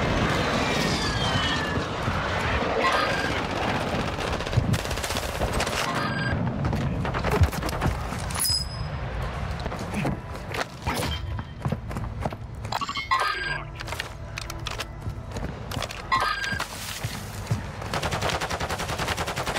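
Heavy gunfire and booming explosions from an airstrike in the video game Warzone 2.0 fill a dense battle scene, with rapid bursts, loud impacts and a faint aircraft drone running steadily throughout.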